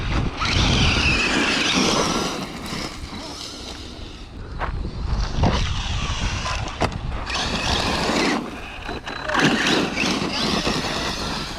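ARRMA Granite 3S brushless RC car driving and landing off ramps, a loud whining motor that surges and fades with sharp thuds of landings scattered throughout, with people talking over it.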